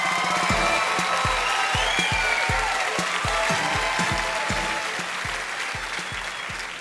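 A warm round of applause for singers Thanh Tuyền and Sheila at a stage show, loud dense clapping that holds steady and then slowly thins toward the end.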